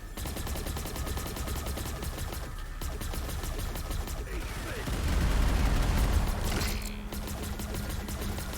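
Rapid automatic gunfire from the player's gun in the video game Anvil, a continuous rattling stream of shots with a heavier burst midway, over busy game effects.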